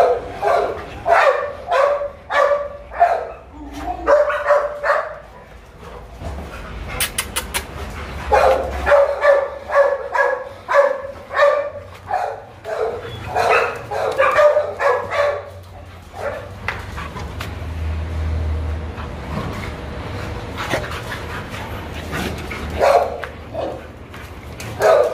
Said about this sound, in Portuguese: Os cachorros estão todos soltos aqui.